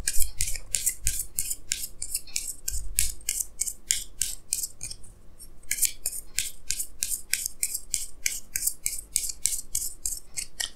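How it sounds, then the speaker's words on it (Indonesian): Tarot cards being shuffled and drawn from a deck, a close run of crisp, rapid rustling strokes that repeat steadily with a short pause midway, with no voices. "Jadi saya akan tarik lagi dua kartu tambahan"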